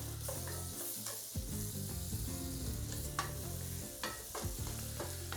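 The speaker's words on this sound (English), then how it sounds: "Go ahead and just add in a stick of salted butter, a tablespoon or so." Salted butter sizzling in hot oil in a pan while venison backstrap is being cooked, a steady close crackle and hiss with occasional stirring scrapes, no voices.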